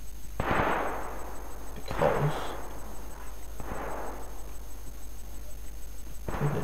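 Gunfire from players shooting each other in the video game DayZ: four sharp, moderately distant shots spaced a second or two apart, each with a short echoing tail, over a steady low background hum.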